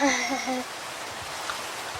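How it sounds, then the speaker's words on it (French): Steady rain hiss from the Minecraft video game falling in a single chunk at night, a soft even wash of noise with a voice speaking briefly at the start. "il pleut, mais je sais pas pourquoi il pleut dans un seul chunk comme ça"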